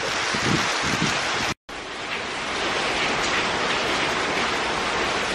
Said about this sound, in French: Il fait vraiment un temps horrible là dehors, il pleut vraiment.